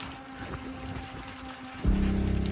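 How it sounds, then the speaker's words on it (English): Steady wind noise buffets the microphone, a constant rushing hiss with a louder low gust near the end. "it's a windy day."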